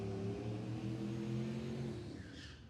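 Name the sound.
drag race car accelerating on quarter mile track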